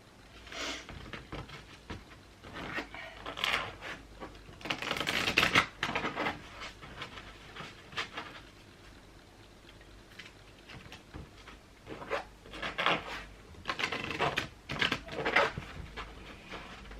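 Tarot cards being shuffled by hand during a reading, bursts of quick riffling and flicking taps that come and go in uneven clusters, fairly close, with no talking over them.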